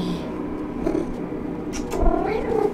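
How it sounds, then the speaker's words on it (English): A kitten meows in short, moderately loud bursts near the listener, with a faint background hum and no talking over it. "Who's that handsome kitten?"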